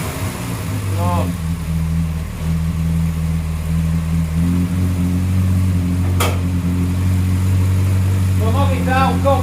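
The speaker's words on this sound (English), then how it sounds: "cold start after a carb rebuild" A Morris Minor engine idles on a cold start after a carburettor rebuild, with the choke nearly off: a steady, close, low mechanical drone that shifts pitch slightly partway through.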